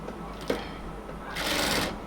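A sewing machine stitching a cotton kameez runs in short bursts, a brief whir near the start and a louder sustained run toward the end, close and clear with no voices.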